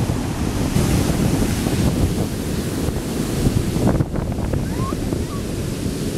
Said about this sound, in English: The water is going every which way. I'm just watching it collide into each other.